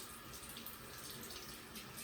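A tap runs steadily into a sink, a continuous faint hiss of flowing water heard alone.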